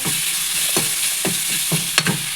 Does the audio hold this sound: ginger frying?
yes